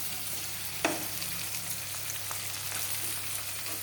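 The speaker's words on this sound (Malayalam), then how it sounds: "ഇനി നമ്മൾ ഈ കടുവിലേക്ക് ഈ തോരനൊക്കെ കോരിയിടുകയാണ് കേട്ടോ" Kerala-style thoran, a vegetable stir-fry, is tipped onto mustard seeds frying in a pan over low gas and stirred. A steady close sizzle carries the whole stretch, with a brief scrape or clatter near the start.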